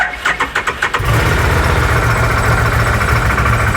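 An Odes Dominator 1000 X2 LT side-by-side, misfiring and running on one cylinder, cranks with a few rhythmic starter pulses, then catches into a loud, steady, rough idle close by.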